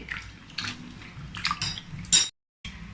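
Poha (flattened rice) being rinsed in water in a bowl in a home kitchen, with sloshing and clinking of a steel vessel in short bursts, a sharper clatter near the end, then a brief silence.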